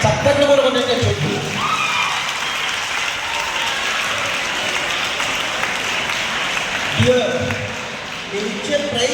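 An audience at a college freshers' day celebration claps steadily for several seconds in a dense, even wash of applause, with a voice speaking briefly at the start and again near the end.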